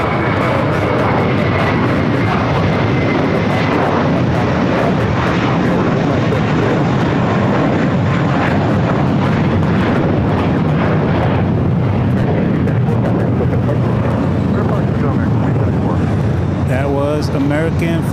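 An airliner rolls down runway 25 right at LAX on takeoff, a loud continuous roar of jet engines filling the whole stretch without a break.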